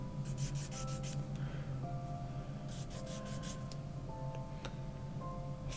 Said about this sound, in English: I'm not. I'm filing it.